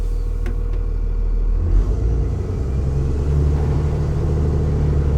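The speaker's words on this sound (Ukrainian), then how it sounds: "Зараз ми поїдемо по барханам піщаним." An armored vehicle powered by a Jawa motorcycle engine drives over sand dunes, a loud steady close engine drone and rumble that shifts pitch as it pulls away, with no voices heard.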